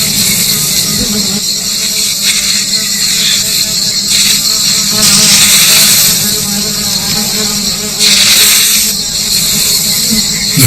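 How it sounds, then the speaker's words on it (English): A dense swarm of giant Himalayan honey bees drones loudly and steadily, a thick close buzzing that swells twice without a break. "The bees are the biggest in the world and amongst the most dangerous."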